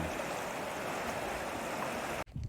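Stream water swirls behind a rock, a steady, close, broadband rush of flowing water that cuts off abruptly near the end.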